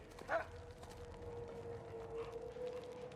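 A lame-legged dog in the Mad Max video game gives one short yelping bark, then a faint whine drawn out over low background noise, fairly quiet throughout.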